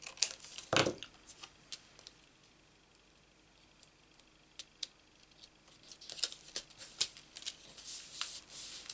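Scissors snip a thin sliver off a sheet of cardstock, close up, with short crisp cuts, a louder rustle early on and a cluster of quick snips toward the end.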